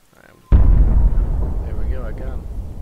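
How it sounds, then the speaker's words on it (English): Bombs explode in the video game WorldBox: after a quiet moment, one sudden loud blast booms and then rolls on into a long, deep rumble, while a voice is faintly heard underneath. "I'm just gonna bomb on the king"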